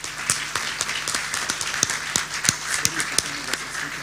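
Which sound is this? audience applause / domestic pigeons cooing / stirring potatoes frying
audience applause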